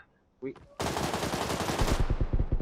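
Rapid automatic gunfire from the video game PUBG Lite erupts as a loud, continuous burst, then breaks into a string of distinct, closely spaced shots, after a brief voice-like sound at the start.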